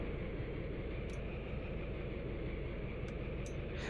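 A class 204 diesel locomotive idles in Train Sim World, giving a steady low engine rumble with broadband noise that stays even throughout, plus a couple of faint high clicks.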